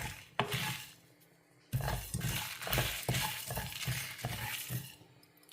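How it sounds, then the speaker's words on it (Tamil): Ingredients for a South Indian kuzhambu fry in a pan with a steady sizzle, while a metal spoon stirs and scrapes in repeated close clinks and knocks. "இதை நல்லா வறுத்துட்டேன்"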